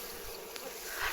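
Bees buzz around a honeycomb as the honey is taken out in the open. The buzzing is a steady, soft drone that carries alone for about a second, swelling slightly at the end.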